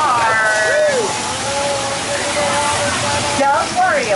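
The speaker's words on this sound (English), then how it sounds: "Don't worry about all that water." Flood water effect on a Universal Studios backlot tram tour, a loud rushing gush and splash of water close by, with a tour guide talking over it.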